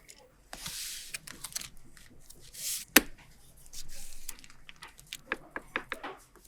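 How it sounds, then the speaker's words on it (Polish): A knife taps rapidly against a cutting board in short bursts of chopping, fairly close, with brief pauses between runs. "Drobno posiekaj kilka ząbków czosnku i włóż do blendera."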